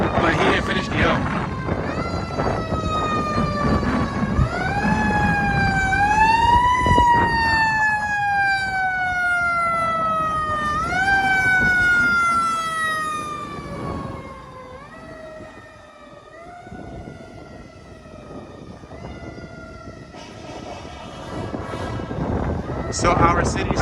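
Fire engine sirens wail and yelp on a city street beside a Philadelphia fire station, rising and falling in long sweeps close by and loud, with traffic rumble and voices talking underneath.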